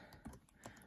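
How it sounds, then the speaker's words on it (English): Computer keyboard typing while filling in a school assignment in Google Classroom, a few quick soft key taps in a short irregular burst, faint and close, with no voices. "As soon as I start typing in that assignment"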